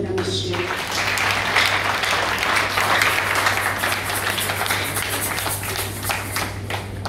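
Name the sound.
audience applauding at concert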